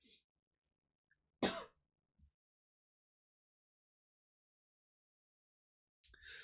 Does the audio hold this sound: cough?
yes